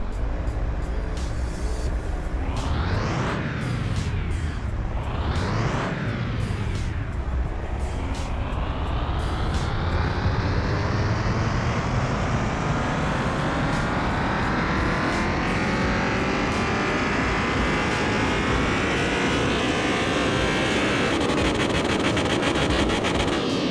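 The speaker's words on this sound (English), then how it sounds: "Let's dyno it. I'm gonna be quiet and listen to the beautiful Viper V10." Supercharged-sounding Dodge Viper V10 swapped into a Road Runner, revving on a dyno in Car Mechanic Simulator 2021: two quick loud blips rising and falling, then a long sustained run climbing steadily in pitch to high revs.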